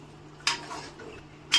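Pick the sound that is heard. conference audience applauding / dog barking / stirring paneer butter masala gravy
stirring paneer butter masala gravy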